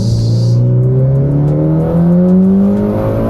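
A rare Mitsubishi Lancer Evolution X FQ440-MR accelerates hard in second gear on an empty road, its engine note rising steadily in pitch, loud and close.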